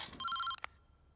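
A telephone rings in short bursts, a bright electronic trill that stops abruptly, followed by a quick click as the call is picked up, with no talk over it.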